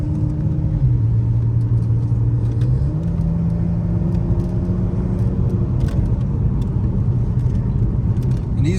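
A Dodge Challenger SXT cruises through city and neighborhood streets, its engine a steady, close low drone inside the cabin, with the pitch stepping down and rising again as it shifts and picks up speed.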